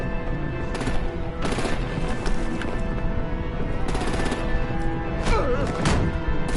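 Gunfire and artillery in a Batman video game, with repeated loud bursts and thuds over a busy battle soundtrack and some game voices.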